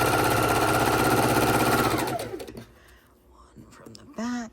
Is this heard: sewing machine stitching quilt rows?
yes